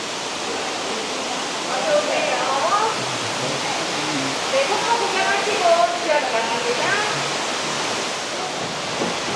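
Water from the Golden Waterfall inside Gwangmyeong Cave pours in a steady, broadband rush that fills the underground space, constant and moderately loud throughout, with a few faint voices beneath it.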